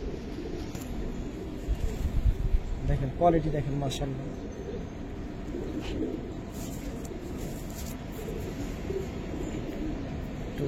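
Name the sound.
Giribaz pigeons cooing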